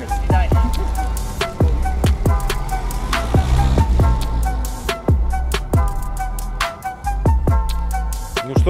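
A 1962 GAZ-21 Volga's engine runs after starting, a steady low rumble under repeated sharp clicks and knocks at an uneven rhythm, fairly close and loud.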